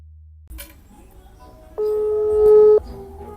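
Telephone dialing tones in a Bugis-language home scene: a few faint clicks and short tones, then a loud sustained dial-tone-like chord for about a second that swells before cutting off.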